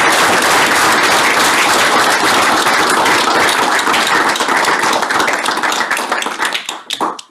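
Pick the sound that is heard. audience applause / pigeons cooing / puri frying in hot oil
audience applause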